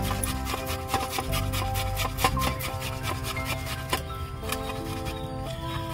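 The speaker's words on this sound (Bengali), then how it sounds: "আলুগুলো গ্রেট করে নেব" Boiled potatoes are grated for an egg chop filling, with repeated scraping strokes at a steady pace under continuous background music.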